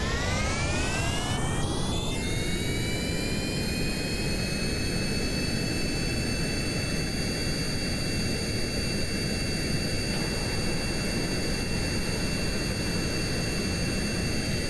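An aircraft's jet engine spools up with a rising whine and then holds a steady, loud roar as the plane rolls down the runway in Kerbal Space Program.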